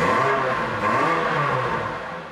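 A Lotus Elise sports car engine revs steadily and loudly up close, a continuous throaty mid-range roar that swells slightly and holds for a couple of seconds with no talking.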